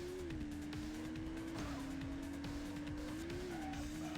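A car races in the Dreamcast game Test Drive 6, its steady engine drone holding a high pitch while tires squeal and skid through turns, loud and continuous with no voices.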